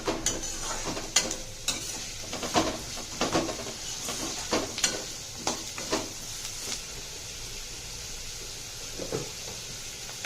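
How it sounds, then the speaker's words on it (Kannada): Curry leaves frying in a pan for poha crackle and sizzle steadily throughout, while a utensil stirs against the pan in a rapid run of scraping taps that thins out toward the end, with no talk. "ಕರಿಬೇವು ಸೊಪ್ಪು ಹಾಕ್ಬೇಕು ಸ್ವಲ್ಪ. ಫ್ರೈ ಮಾಡ್ಕೋಬೇಕು."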